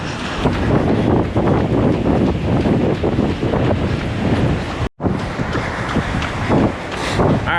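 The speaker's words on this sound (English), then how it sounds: "Oh, it's real windy." Strong wind buffets the microphone during a run, a loud, continuous roar with gusty surges and a brief dropout partway through, up close with no voices.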